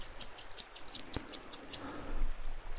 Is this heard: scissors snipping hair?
yes